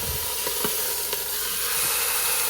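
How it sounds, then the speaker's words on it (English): Meat sears in an Instant Pot, browning on every side with a steady, close sizzling hiss and a few soft pops, no voices over it. "We're gonna sear this, get that all seared up and browned on every side."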